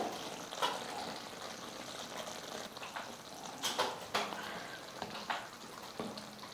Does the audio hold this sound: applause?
no